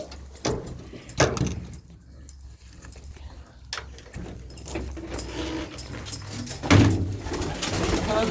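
Tumbler pigeons coo softly in low, throaty bursts, mixed with scattered rustling and fluttering nearby.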